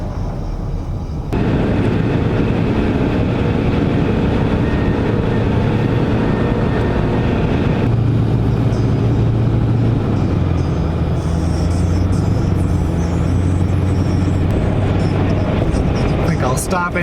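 Steady roar of a car cruising on a US highway in Missouri, broad continuous road and wind noise with a low tonal drone shifting partway through, loud and unbroken with no talk.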